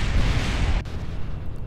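Bombs exploding in the video game Kerbal Space Program, dropped from an AC-130 gunship: a loud, continuous roar of blast noise that cuts off sharply partway through, leaving a lower rumbling tail.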